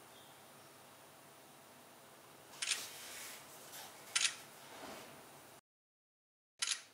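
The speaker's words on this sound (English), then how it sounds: "I'm clicking the shutter button quickly, but the capturing speeds are a bit slow" An OPPO F9 Pro phone camera shutter clicks several times in a quiet room, a few separated sharp clicks at an uneven, slowish pace, close and faint.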